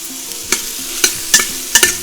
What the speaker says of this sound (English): I'm going to saute it now.